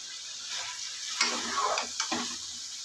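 Chopped cauliflower frying in ghee in a kadhai, a bright continuous sizzle with a couple of louder stirring scrapes partway through, no voices.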